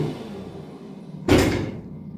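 A car door is pushed shut with a single solid thud just past the midpoint, following a quiet stretch of low background noise.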